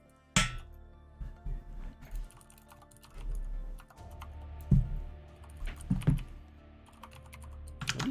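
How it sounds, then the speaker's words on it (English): Mechanical keyboard keys clack in uneven bursts of fast typing, loud and close, with heavier thocks scattered throughout and no voices over it. "I have a mechanical keyboard."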